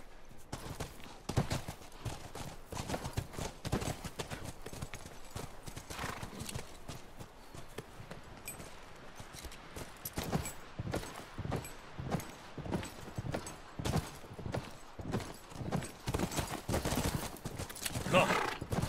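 Horse hooves clip-clop in a steady, dense walking rhythm throughout The Last of Us video game, with occasional whinnies and a continuous background ambience, loud and close.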